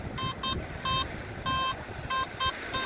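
A metal detector sweeping a beach gives repeated short, bright tonal beeps in an irregular sequence of about seven pulses, clear and close over faint background noise.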